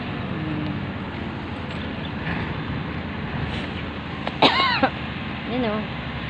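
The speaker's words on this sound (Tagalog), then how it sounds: "Ubo-ubo ako ah." Two or three short coughs from a person walking outdoors by a road and bridge, heard close over steady traffic and wind rumble.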